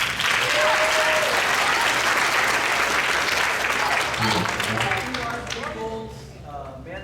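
A crowd applauds loudly and steadily at a sixth grade band concert, the clapping fading toward the end as voices and chatter start to come through.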